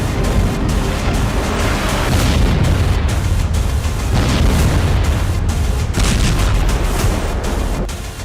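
Heavy, repeated booming missile explosions rumble one after another, loud and dense, with a continuous roaring low end throughout.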